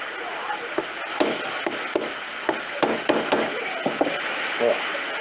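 A hammer taps a metal cuticle nipper being adjusted for sharpening, about a dozen light, irregular metallic knocks close to the mic with faint background noise.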